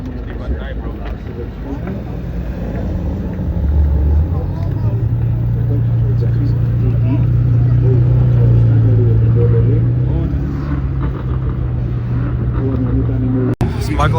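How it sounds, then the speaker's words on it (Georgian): A McLaren driving off at a drag race event, a loud sustained engine rumble that builds and holds before dropping away, heard amid crowd and outdoor noise with talking nearby. "McLaren-ი გადის კიდე."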